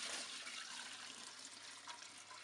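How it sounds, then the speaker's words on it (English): Water poured into a Wonder Wash, a hand-cranked non-electric washer: a steady, soft rushing pour that runs continuously, fairly faint and without speech. "I'm going to put a little bit more water in there."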